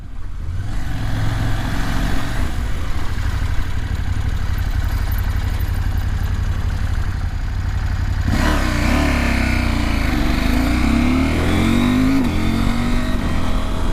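A 2019 KTM 790 Adventure parallel-twin motorcycle pulls hard in second gear. The engine note is loud and steady, then rises sharply as it revs and accelerates, with a gritty mechanical rumble underneath.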